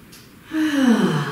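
A single audible breath is drawn during a yoga session lying on a mat, a close, loud gasping inhale that rises for about a second.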